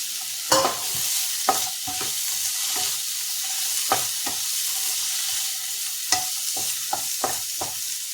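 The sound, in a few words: adding mango and tomato to sautéing bitter gourd and onion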